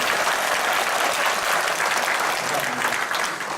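A church congregation at a Sunday service breaks into a big round of applause, a continuous dense clapping that stays steady and full for the whole stretch.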